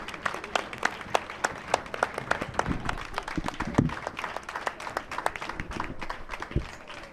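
Applause from an audience at a talk on Pan-Africanism, a thinner, uneven patter of individual claps with a few low thumps scattered through, fairly quiet and continuing without speech.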